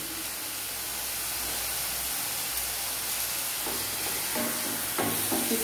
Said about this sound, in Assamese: মই ইয়াত আদা নহৰু পেষ্টখিনি দিম